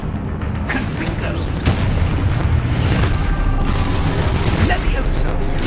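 Confringo blast curse cast in Hogwarts Legacy, a sharp booming burst followed by a sustained crackling, rumbling roar of combat effects, loud and near.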